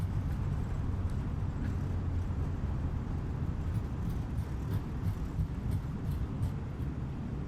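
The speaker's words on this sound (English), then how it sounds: "Let's get the reversers going." Airliner jet engines on British Airways thrust reversers after touchdown at Dublin in Microsoft Flight Simulator, a steady, dense low roar holding at one level throughout without speech.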